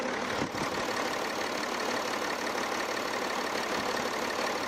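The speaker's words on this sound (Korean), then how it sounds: "바로 엔진 소리 한번 들려드릴게요" A car's inline-six engine idles smoothly and quietly, a steady low hum with no revving, heard close with nothing else over it.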